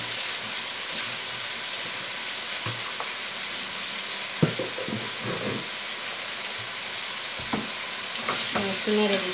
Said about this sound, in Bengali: একটু নেড়ে দিচ্ছি, এগুলো পিসগুলো উপরে নিয়ে আসছি, সবজিগুলো একটু মিক্স করে নিচ্ছি